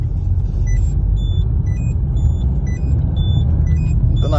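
Steady low diesel rumble from a 2011 Citroen Berlingo 1.6 diesel on the move, with gear changes, droning evenly throughout and joined by faint high electronic beeps.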